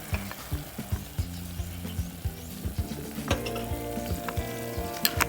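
Ground spices frying in a pan of chicken masala, with loud continuous sizzling broken by repeated scraping and clattering strokes of a stirring spoon against the pan.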